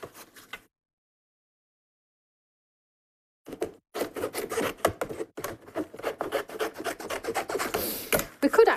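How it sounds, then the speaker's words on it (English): Old, worn craft scissors cut around a paper shape for papercrafting. A short rasp comes first, then a pause, then a run of close, dry snipping and scraping strokes. "Let's just go around this with my scissors."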